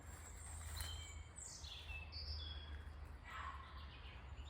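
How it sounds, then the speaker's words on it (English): Birds chirp and sing in a steady outdoor ambience, with high descending whistles and twittering calls over a low background hum. "Notice the sounds of the birds."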